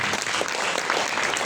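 A church congregation at a Pentecost Sunday worship service claps together, a dense, steady burst of applause filling the room, fairly loud and without speech over it.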